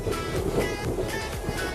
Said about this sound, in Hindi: समुद्र के पानी की बड़ी बड़ी लहरें, ये देखिए नज़ारा।